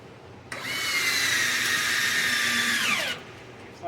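A power drill drives a 2.5-inch screw into a wooden bench upright, one continuous high whirring run of about two and a half seconds that rises slightly in load, loud and close, then stops abruptly.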